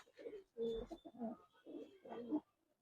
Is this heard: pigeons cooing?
yes